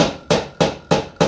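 A hammer strikes wood four times in an even rhythm, each blow a loud, close, sharp knock with a short decay, made while building a built-in wooden chest of drawers in a carpentry shop.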